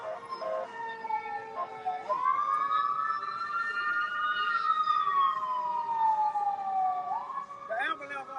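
An ambulance siren wails steadily, rising and falling as it passes at moderate distance, with a person talking faintly beneath it.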